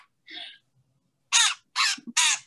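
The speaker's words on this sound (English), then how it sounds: "There's a nice classic catbird sound." A gray catbird held at a bird banding lab gives a series of harsh, raspy mewing calls, close and clear, one short call followed by three louder ones in quick succession.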